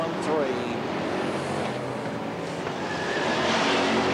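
Hot stock cars racing at Northampton in 1992, engines roaring continuously as cars pass along the home straight, with a commentator talking over the racing noise.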